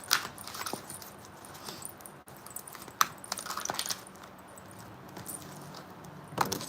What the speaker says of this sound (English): I'm going to shuffle 2 more times and then take the top